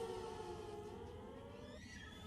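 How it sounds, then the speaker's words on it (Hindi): Civil defence alert sirens in Jammu wail in long steady tones that slide down and shift pitch near the end, heard at a distance over a constant rumbling background, with no talking. "ये सायरन की आवाजें हैं, अलर्ट सायरन जो लगातार जम्मू और आसपास के इलाकों में बजाए जा रहे हैं"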